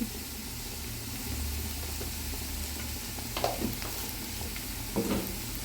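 Paneer sandwich filling sautéed in a pan with pepper and chili powder: soft steady frying hiss with a few spatula scrapes and stirs, close and fairly quiet, no talking.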